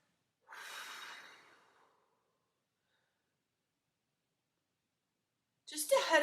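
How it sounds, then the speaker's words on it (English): A single deep breath is drawn close up, a long airy inhale that fades out. Silence follows, then a voice begins speaking. "Deep breath."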